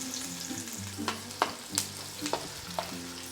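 Onions sizzle and fry in a pan while being stirred, with a steady sizzle and intermittent scraping strokes standing out close up, no one speaking.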